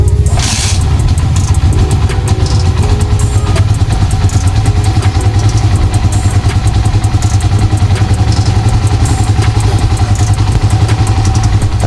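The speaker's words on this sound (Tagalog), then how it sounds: "iraran ko ulit yung engine para mag-circulate na ulit sa loob ng makina new engine oil na merong Nano Moly" A car engine runs on fresh engine oil with a Nano Moly additive, giving a loud, steady low drone and rapid ticking clatter. A brief rise near the start gives way to an even idle, recorded up close.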